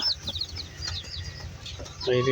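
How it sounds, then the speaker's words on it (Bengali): Six Sonali chicken chicks just brought home, giving thin high cheeps in quick bursts at the start and again at the end, faint beneath a nearby voice. "6টা মুরগির বাচ্চা কিনেছি"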